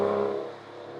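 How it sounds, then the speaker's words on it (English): An Aston Martin Vanquish Volante's 6-litre V12 engine growls loudly and evenly, a smooth multi-cylinder drone that eases slightly in pitch over a brief second. "Now this 6-liter V12 engine of course sounds incredible."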